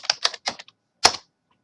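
Someone types a password on a computer keyboard: a quick run of four or five crisp key clicks, a short pause, then one firmer keystroke, close and clear in a quiet room.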